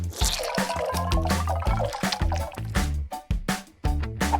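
Clay and lemon juice being mixed into a paste, giving loud, close wet squelching and dripping sounds in a steady run of sticky pulses.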